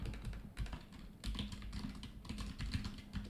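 Steady clicking of keys on a computer keyboard as someone types text for a résumé, a continuous run of quick close taps for a few seconds with no talking.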